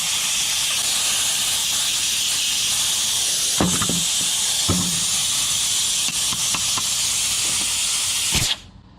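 Compressed air hisses steadily from a leaking trigger valve on a Bostitch framing nailer, a loud constant rush broken by a few clunks and knocks before cutting off abruptly near the end.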